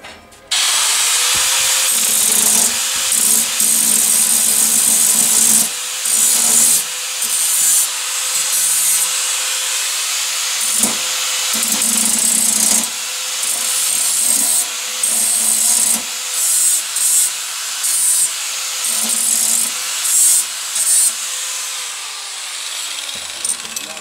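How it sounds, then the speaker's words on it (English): Angle grinder smoothing the sharp corners of welded metal bars for a cook grill, a loud continuous grinding roar that rises and dips in bursts as the disc bites and lifts off, close up with no talk. "So just use the grinder."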